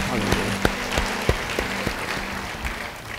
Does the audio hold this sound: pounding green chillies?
no